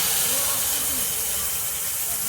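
Ground tomato paste goes into a hot pan for a soya chunk curry cooked in green coconut, giving a loud, steady steaming hiss that fills the whole moment without a break.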